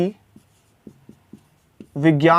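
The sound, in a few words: writing on a board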